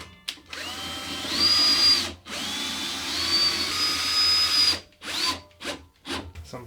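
A power drill drives screws into wood while building an Apprehension Engine, its motor whining loud and close in several bursts of a second or two, with brief pauses between runs.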